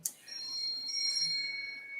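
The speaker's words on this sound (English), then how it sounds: "Sorry about the phone ringing" A telephone rings faintly in a quiet room, a thin electronic trill that holds steady for a couple of seconds after a short click at the start.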